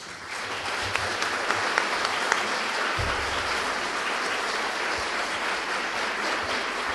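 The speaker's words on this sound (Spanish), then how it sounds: "quisiera darle un muy fuerte aplauso a este conferencista" A lecture audience at a university conference gives sustained, loud applause for the speaker, with many hands clapping in a dense, even wash and a few thumps underneath.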